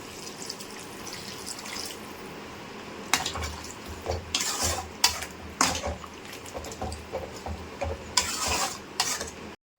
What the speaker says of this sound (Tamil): மிளகாத்தூள் நல்லா போட்டு கொஞ்சம் கலக்கி விட்டோன்னே